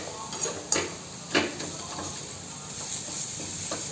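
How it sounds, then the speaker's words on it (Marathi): Garlic being crushed by hand for a Maharashtrian red chili thecha: a few sharp knocks and clinks come near the start, with sparse softer taps later over a steady background hiss. "त्याच्याने आपण हा लसूण असा ठेचायचा."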